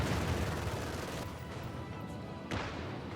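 Strafing-run gunfire in Company of Heroes 2, a steady dense wash of rattling fire with a sharp burst near the end, distant and moderately faint.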